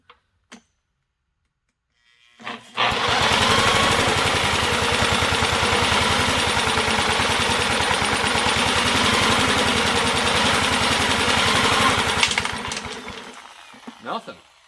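A drill with a socket cranking a 1950s Wards lawn mower engine, a loud rapid rhythmic chugging that starts after two quiet seconds, runs steadily for about ten seconds, then winds down, with faint clicks at either end.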